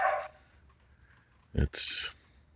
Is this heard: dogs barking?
yes